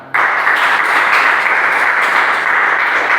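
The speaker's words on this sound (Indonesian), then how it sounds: "Ya, tepuk tangan." A class breaks into sudden, loud clapping that starts sharply and holds as a dense, steady patter of many hands for a few seconds.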